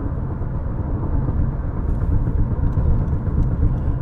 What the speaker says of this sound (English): give you a real world example of what it's like with the road noise